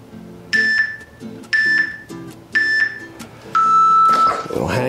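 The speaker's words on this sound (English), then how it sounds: "Next beep is your last one for the night." Workout interval timer during a hip mobility session sounds four loud electronic beeps at a steady rhythm, the last one longer, with a voice speaking underneath.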